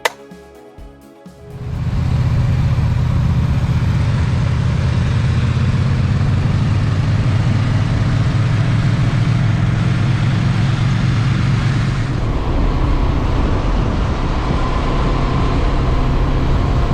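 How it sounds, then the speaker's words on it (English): A 2023 Honda CB500X adventure motorcycle with its 471 cc twin engine pulls away after a short quiet start, then a loud, steady drone holds through the ride with a slight shift in pitch near the end. "Tell you, for a little 471 twin, the CB500X has got plenty of giddy up."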